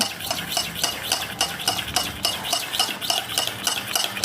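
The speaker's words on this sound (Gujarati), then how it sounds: "હવે આને આપણે ફેટી લઈશું" A spoon whisks honey, coffee and milk in a cup, a fast even rhythm of close clinking strokes with no talk.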